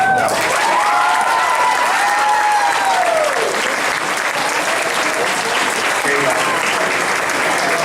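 Loud, sustained applause from a crowd at a 2013 elementary school graduation, continuous clapping near and full throughout, with cheering voices rising and falling on top.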